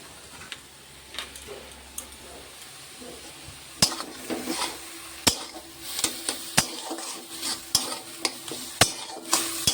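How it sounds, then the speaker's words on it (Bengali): Taro leaves (kochur shaak) stirred in a pan, a spoon or spatula clinking and scraping in irregular close taps over a faint sizzle, with no voices. "একটু নেড়ে চেড়ে নামিয়ে নেব, তাহলে আমার কচুর শাক কমপ্লিট"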